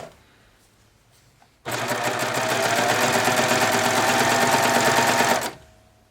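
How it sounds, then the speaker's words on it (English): A serger stitches fabric strips together with a 1/4 inch seam and a shorter stitch length. It starts abruptly, hums and whirs steadily for about four seconds, then stops, with quiet room sound on either side. "I'm just going to simply sew these together with a 1/4 inch seam, a little bit shorter stitch length."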